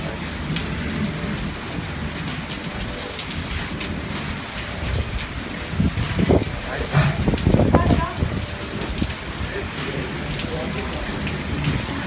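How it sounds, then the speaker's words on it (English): Heavy rain pours steadily, hissing and pattering on surfaces, with a brief swell of louder drumming midway. "It's raining so hard."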